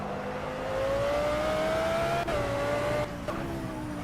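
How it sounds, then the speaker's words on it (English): Car engine in the S.T.A.L.K.E.R. 2 video game held at a steady drone while the car oversteers, with a rising whine and a brief dip partway through, continuous and alone with no talk. "If you see how much wheel input I'm giving this car, I'm not turning it that much, and it's oversteering heavy right now."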